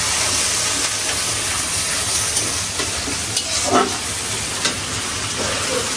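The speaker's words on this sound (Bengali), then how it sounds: "তো মশলাটা এখন কষানো হবে" Spice paste sautés in a pan with a loud, steady sizzle and hiss, broken by occasional scraping stirs and small clanks up close.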